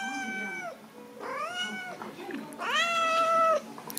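Pet cat meowing at home, three drawn-out rising and falling meows close by, with someone speaking softly between them.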